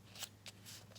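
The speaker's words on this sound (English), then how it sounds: "you're going to take a colored piece of paper. You're going to fold it upwards" Colored paper folded upward and creased by hand, heard as several faint, quick rustles and crinkles close by with no talking.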